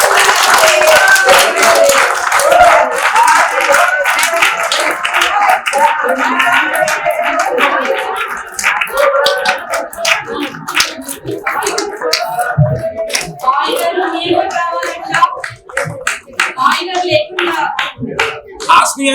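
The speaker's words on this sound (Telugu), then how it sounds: "గట్టిగా క్లాప్స్ కొడుతూ పిలుద్దాం." A crowd at a 70th birthday celebration claps loudly and continuously, a dense rattle of many hands with cheering voices mixed in, fading briefly midway then picking up again.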